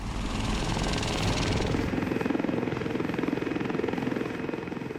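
A Lynx helicopter's rotor thumps in rapid, steady rhythm under a loud turbine roar, close and continuous.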